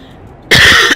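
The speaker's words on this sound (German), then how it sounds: "Ich will nicht husten, Junge. Ich muss zocken und nicht husten." A single loud, harsh cough bursts out abruptly and lasts about half a second, close and alone, during a gaming session.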